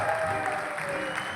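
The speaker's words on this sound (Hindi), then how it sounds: "Mrs Tejal and mister Ketan Patel, जोरदार तालियों के लिए।" A brief burst of steady crowd applause at a business success seminar, dense clapping from a sizable audience.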